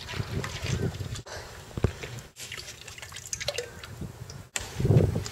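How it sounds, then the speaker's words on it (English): Oil pours into a turkey fryer pot in a trickling, gurgling stream with dripping splashes, broken by short pauses, close and moderately loud with no voices. "Pour in the oil."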